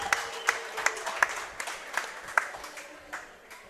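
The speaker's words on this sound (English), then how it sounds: "Big round of applause for Matthew." Scattered applause from a small audience for a Special Olympics athlete at a soccer event, a handful of separate sharp claps standing out over a faint room background rather than a full ovation.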